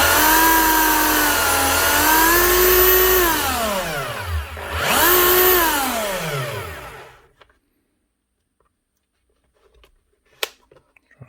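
Loud whine of a 2000 Makita HR3000C hammer drill running free and fast with no hammering, pitch rising and falling as the trigger is eased and squeezed again, then cutting off into near silence with a few small knocks.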